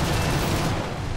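Aircraft guns fire at a Wellington bomber in War Thunder, a steady, dense rattle of rapid shots over a low rumble, continuous for the whole short burst with no voices.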